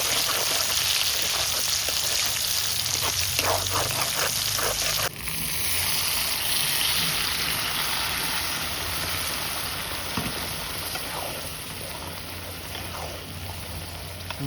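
Whole spices, cardamom and dried red chillies, crackle in hot oil with onion in an outdoor village kitchen, a dense, continuous loud sizzle with scattered pops.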